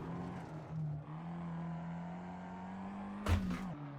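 The Rauh Racing Renault Twingo race car in Assetto Corsa, on the Nordschleife in its N24 setup, holds a steady buzzing engine drone at speed, broken near the end by a brief sharp thump, with no talking.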